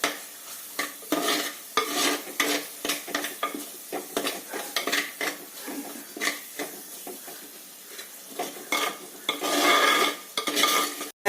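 Kottayam-style fish curry masala being stirred and fried in a pan: repeated scraping and clinking strokes of a spoon against metal over a steady sizzle, close and fairly loud, with no talking.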